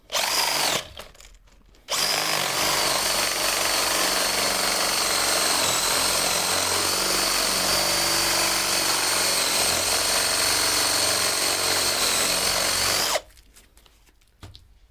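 A power drill whines steadily for about eleven seconds, boring through a wooden fence stake backed by a small board, with short pauses before and after the run.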